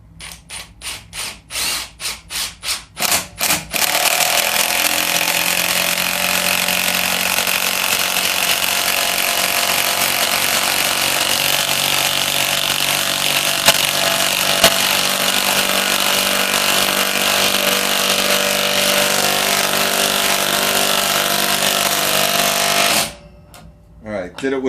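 A Milwaukee M18 Fuel 2755-20 impact wrench drives a 1/4-inch, 6-inch lag bolt: a few short bursts at first, then a loud, steady rapid hammering that runs for about twenty seconds before cutting off, with nobody talking.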